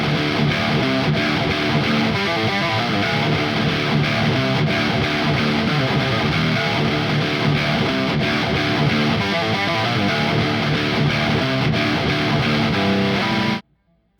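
Heavy distorted electric guitar riff played through the Gojira X amp plugin by Neural DSP, dense and loud with chugging rhythmic palm-muted bursts, cutting off abruptly at the end.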